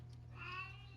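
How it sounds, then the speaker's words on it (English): A pet cat gives a single short, faint meow indoors, rising and fading within a second over a low steady hum. "sorry if you can hear my cat"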